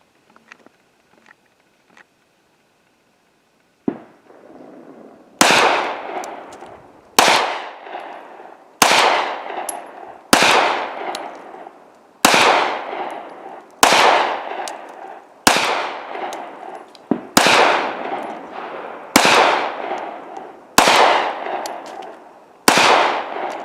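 A Sig Sauer P365 pistol fires about a dozen loud, sharp shots at a steady pace outdoors, each crack ringing briefly before the next, after a few faint clicks.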